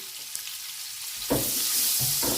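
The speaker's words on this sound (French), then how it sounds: "Maintenant, je vais faire revenir les oignons aussi." Onions frying in oil give a steady hiss of sizzling, with a louder crackling surge partway through as more food hits the pan, close and continuous.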